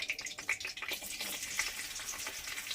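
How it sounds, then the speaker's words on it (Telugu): Small fish (nethallu) dropped into well-heated oil for a gongura fry, a steady, close, crackling sizzle with bubbling that runs without pause. "ఫస్ట్ ఆయిల్ బాగా కాగిన తర్వాత మనం ఈ తీసుకున్న నెత్తళ్ళు వేసేసుకోవాలి."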